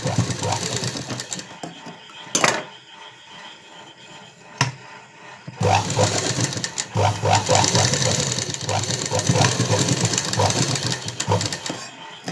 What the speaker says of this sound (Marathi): आता याला मी डबल शिलाई मारून घेणार.